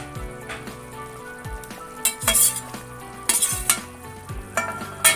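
Fried rohu fish pieces and fried eggplant are dropped into a boiling thin fish curry, giving a bubbling simmer with several sharp splashes and sizzling bursts plus scrapes of a spoon against the pot.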